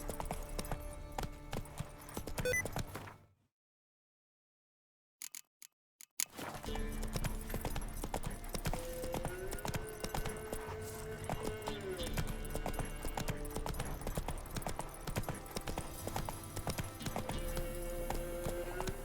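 Horse hooves clip-clop at a gallop in The Witcher 3: Wild Hunt Next Gen, loud and rhythmic, breaking off into a few seconds of silence before the hoofbeats resume steadily over game sound.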